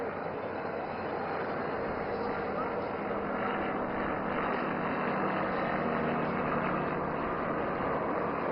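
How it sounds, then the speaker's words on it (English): Aircraft engine roar from a plane flying a figure-of-8 maneuver at the Aero India 2025 air show in Yelahanka, Bengaluru, a steady broadband drone with crowd murmur underneath throughout. "Now aircraft is entering into a maneuver of making figure of 8."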